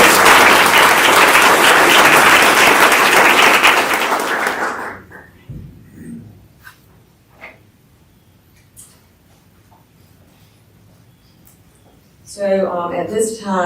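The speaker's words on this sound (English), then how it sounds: "So if you could all give Jennifer a round of applause." An audience at a North Carolina State Bar council meeting gives a loud round of applause, which fades out after about five seconds, followed by quiet room noise and someone speaking.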